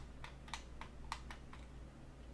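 Several quiet keystrokes on a computer keyboard, a handful of separate clicks ending with a key press, over a faint low hum.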